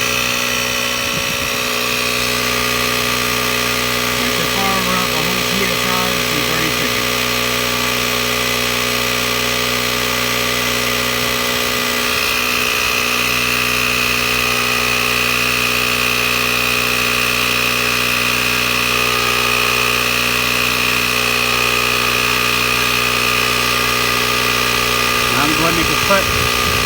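Ryobi dual-purpose inflator/deflator running steadily as a continuous motor drone with an even mechanical hum, loud and close throughout, with brief handling noises partway through.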